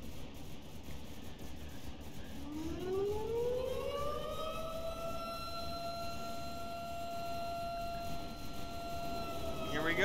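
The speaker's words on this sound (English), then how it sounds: "Siren goes." A siren in the naval combat game From the Depths winds up from a low pitch into a loud, sustained wail that holds steady over background battle noise.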